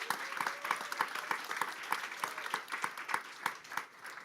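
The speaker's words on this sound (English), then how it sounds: "Let's give them a round of applause too." Audience at a tech demo day event at Google HQ applauding, a soft, steady patter of many hands clapping at moderate distance throughout.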